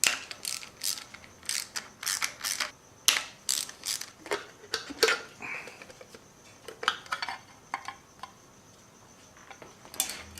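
A ratchet wrench loosens valve cover bolts on an engine being torn down for a rod knock, sounding as quick bursts of sharp metallic clicking with brief pauses and occasional clanks, close and alone.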